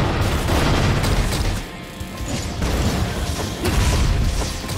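A missile blast in the action game Forged in Shadow Torch lands as a loud, crunching boom with debris and rumble, followed by further bursts and crashes that keep the level high.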